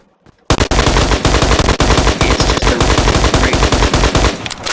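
Rapid, loud automatic gunfire from a DMR or battle rifle in the shooter game Phantom Forces, a dense, steady stream of shots that starts abruptly after a brief quiet moment and keeps going without a break.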